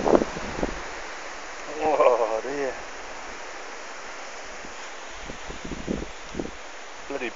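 Broadband wind noise buffets outdoors, with gusts rising and falling, and a few brief voices and bird-like chirps in between.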